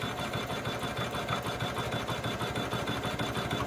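A sewing machine runs steadily and continuously, stitching a dense satin stitch on a fabric mask, with an even, rapid mechanical rattle throughout.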